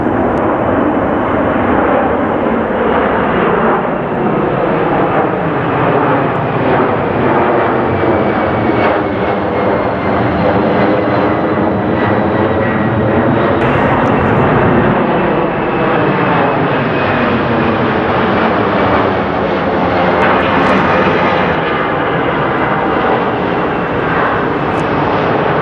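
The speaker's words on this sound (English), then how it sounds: "aside from all the planes landing and taking off" A fixed-wing airplane roars overhead near an airport beside a forest preserve hiking trail, a loud, sustained engine rumble with a slowly shifting whine lasting the whole stretch, no talk over it.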